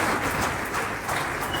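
A crowd gathered at an outdoor celebration in Jaffna breaks into dense, steady applause, a broad hiss of many hands clapping together without pause.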